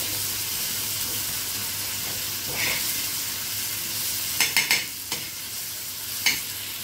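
Masala for boiled-egg burji cooking in a pan, a steady low sizzle and hiss, then a quick run of spoon scrapes and taps against the pan toward the end.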